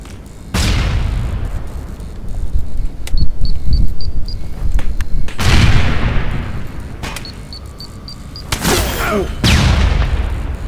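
Loud booming explosions and bursts of gunfire from the video game Aliens: Colonial Marines come in several waves, with sharp cracks and rumbling blasts filling the mix almost continuously.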